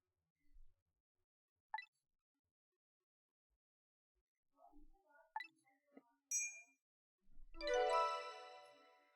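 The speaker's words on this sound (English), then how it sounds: "It's a sound effect of Missile hitting the door." A missile striking a door in the game Ghost Trick: a few sparse metallic pings and ticks, then a bright clanging, jingling impact burst near the end, loud and close, with no one talking.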